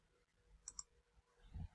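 Two quick, sharp computer mouse clicks close together, faint over quiet room noise, followed by a low thump near the end.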